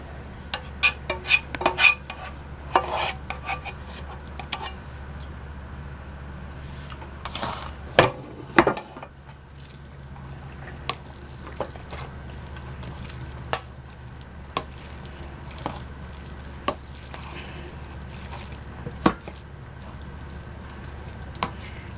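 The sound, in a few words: mixing meat and vegetable mixture with rice in a bowl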